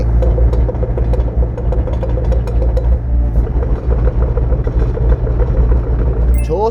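Diesel engine of a 2019 Hyundai HW60 wheeled excavator driving at high speed, a loud, steady low rumble with a continuous drone that stays close the whole time.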